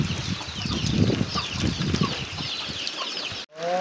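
Chickens and ducks wander out to forage around a rural family home. Scattered clucks rise over constant outdoor background noise at a moderate distance, with no one speaking.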